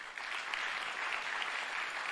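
Applause fills a hall at the Pégases 2023 video game awards for Spiritfarer, steady even clapping from a crowd heard at a moderate distance, holding without a break.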